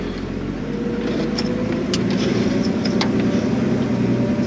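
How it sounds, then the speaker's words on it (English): A 4WD engine drones steadily as the vehicle descends the Bunbinyunna offroad track in the Flinders Ranges on its exhaust brake. The continuous cabin rumble carries occasional light knocks and rattles, and no voices are heard. "I can use the exhaust brake, which is nice."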